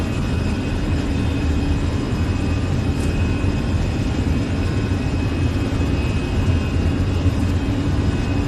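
Airbus A320 jet engines spooling up for takeoff roll in Microsoft Flight Simulator 2020, a steady, loud broadband roar with low rumble holding evenly throughout, no voices.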